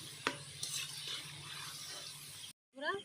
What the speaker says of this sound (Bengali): ভাজা হয়ে গেছে এইভাবে আমি সব সীতাভোগ মিষ্টিগুলো